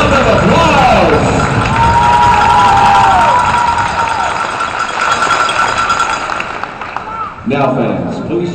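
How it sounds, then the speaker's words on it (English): A hockey arena crowd cheering and applauding troops at an Evansville IceMen game, a loud sustained roar under an announcer's amplified voice, with a burst of clapping near the end. "Fans, please give a round of applause for the people of the IceMen round of applause."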